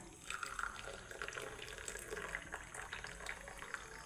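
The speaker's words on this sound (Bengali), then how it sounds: "আমি ছেঁকে নেব চাটা" Brewed tea being strained, a quiet steady trickle and pour of liquid with light splashing and small drips, close by with no voices.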